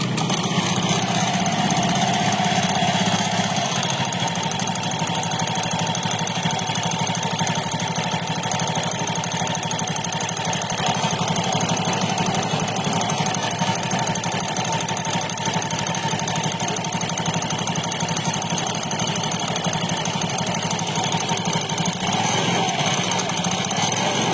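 A disassembled scooter engine with its CVT area opened runs steadily after a test start, giving a loud, continuous mechanical drone and rattle close by that holds evenly for the whole stretch with no talking.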